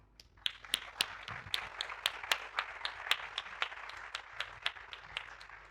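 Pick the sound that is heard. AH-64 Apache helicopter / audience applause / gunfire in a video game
audience applause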